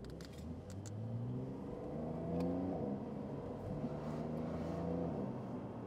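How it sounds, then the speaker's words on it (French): Porsche 911 engine accelerating in first gear, heard from inside the car, a rising rev climbing twice in smooth sweeps, steady and moderately loud. "en première vitesse, une petite accélération, juste en première"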